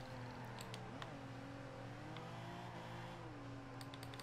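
A BMW 850csi's engine and low-pressure turbos in Forza Horizon 2 hold a steady, loud drone with shifting pitch, faint whistling turbo spool riding above the rumble, no talking over it.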